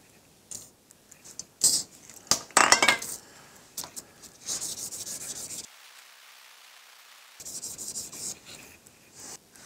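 Hand sanding with a finer grit block on a surface being checked for porosity, a series of close, scratchy rubbing strokes in bursts with a quiet pause midway before the scraping resumes.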